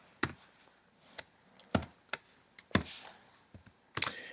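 Close, sparse keystrokes on a computer keyboard: a handful of distinct clicks spaced irregularly over a few seconds, in an otherwise quiet room.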